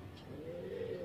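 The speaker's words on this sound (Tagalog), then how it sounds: "ito nga yung mga kalapati natin" Caged pigeons coo softly in a low, murmuring call that rises slightly, with a steady background hum throughout.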